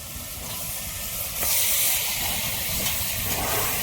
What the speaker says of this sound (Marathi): तर चला आता मटण टाकून घेतो तेव्हा पटकन अगोदर परतून घेतो